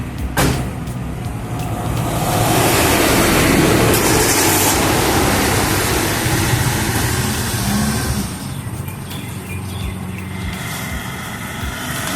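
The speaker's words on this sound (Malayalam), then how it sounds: "നമുക്ക് ഈ ഒരു സാൻഡ്രോ ജസ്റ്റ് ഒന്ന് ഓടിച്ചു നോക്കാം" A Hyundai Santro Xing hatchback with a 1.1-litre engine drives along, its steady engine drone and road rumble heard from inside the cabin, loud and continuous after a sharp thump at the start, with no talking.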